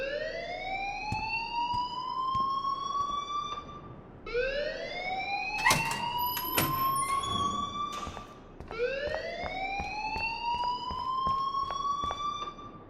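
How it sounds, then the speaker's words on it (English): An alarm in the Life Is Strange video game blares as a loud whooping siren, each tone sweeping upward and holding. It repeats three times in steady cycles, with a brief clatter partway through. "please turn off that alarm since that's your job"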